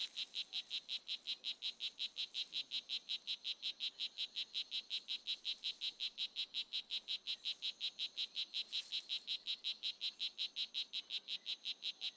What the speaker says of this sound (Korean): 수컷은 암컷의 관심을 끌기 위해 울음주머니를 크게 부풀린다.